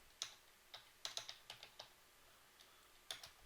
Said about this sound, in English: We'll type in license,